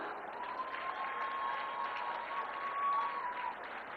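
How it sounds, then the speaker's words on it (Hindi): Children clap together in a hall at a Punjab, Pakistan gathering, producing a soft, even, sustained patter of many hands, fairly distant, with a faint steady whistling tone running underneath. "बड़ी अच्छी तालियां बजा रहे हो,"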